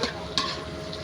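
Pork sautéing with garlic and onion hisses quietly in a pan, with a single spatula scrape partway through the brief moment.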